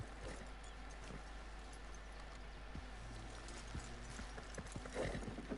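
Horse hooves clip-clop in Red Dead Redemption 2, steady faint hoofbeats over a constant low rumble, with scattered soft knocks and no clear talk.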